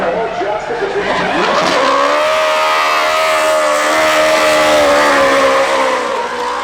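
Toyota Supra race car with an Italian engine on the 2019 Goodwood Festival of Speed hill climb, a loud, close engine note that climbs in pitch and then holds a strong, steady wail at high revs.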